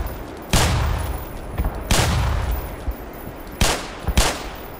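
Black Mesa weapon fire and explosions: four loud, sharp blasts in irregular succession, each followed by a rumbling decay, with quieter pops in between.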